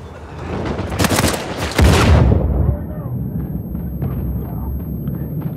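Gunfire from an Uncharted 4 multiplayer match with FAL rifles, a loud burst of rapid cracking shots that swells into a booming blast before settling into a low rumble of game ambience.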